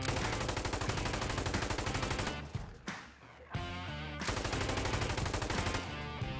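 Rapid automatic gunfire from the video game Insurgency: Sandstorm, with dense, loud bursts that cut out briefly midway before sustained firing resumes, and no talking over it.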